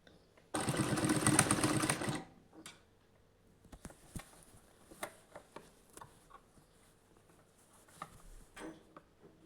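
A sewing machine stitches a double-folded seam on a cotton nighty in a long, loud, dense run of about a second and a half, followed by scattered soft clicks and handling taps.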